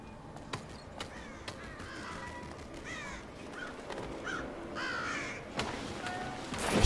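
Crows caw repeatedly in the Thief video game, a series of harsh, rasping calls spaced across the clip over a low ambient background, with sharp clicks and thuds interspersed and no talk.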